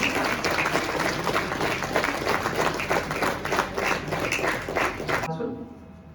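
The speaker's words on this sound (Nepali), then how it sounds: "जोरदार तालीले समर्थन गर्ने अनुरोध गर्दछु।" Audience applause at a professional gathering, a dense wash of many hands clapping steadily and loudly for about five seconds before cutting off abruptly into near silence.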